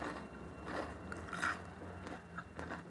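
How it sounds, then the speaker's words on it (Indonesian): Crisp fried tofu being bitten and chewed, giving a few quiet crunchy snaps spread over a few seconds, close up, with no talking. "Ini tahu bener-bener kriuk-kriuk"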